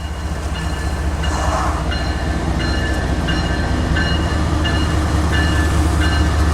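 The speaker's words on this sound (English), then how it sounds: "Another coal train." A long southbound coal train rolls past with a steady heavy rumble and rhythmic clicking of wheels over rail joints.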